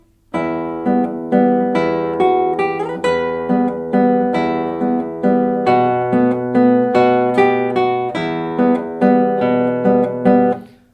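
A nylon-string classical guitar plays 'Vals' by Calatayud, a flowing piece, its melody and plucked accompaniment sounding at the same even volume, close and clear.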